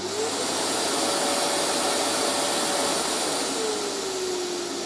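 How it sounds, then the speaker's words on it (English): A Festool dust extractor vacuum starts up in a workshop, rising quickly to a loud, steady whooshing roar with a faint tonal whine, then dropping in level near the end. Nobody talks. "And this one I can go, hey, vacuum."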